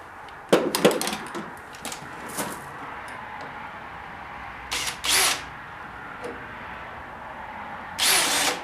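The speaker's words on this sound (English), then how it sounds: "now I'm going to take a couple of screws and drive them in this way at an angle into this piece right here" Power drill driving screws at an angle into a wooden board while building a pull-behind camper, heard in several short whirring bursts separated by pauses and light handling noise.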